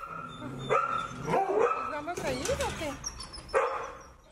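Puppies offered for adoption through a metro campaign bark and yip repeatedly in sharp, fairly close bursts, mixed with whimpers, while people talk over them.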